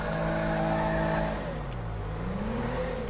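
A Toyota Corolla in GTA5 starts off and drives, its game engine droning loud and steady before the pitch dips and then climbs again as it revs, with no voices over it.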